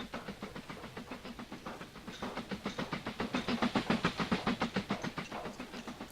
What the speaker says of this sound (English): Okay, here's the train coming.